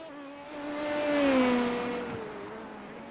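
Race car engine in a sim racing game at Imola, a single car driving down pit lane with a steady hum that swells in pitch and loudness midway, then eases off as it passes.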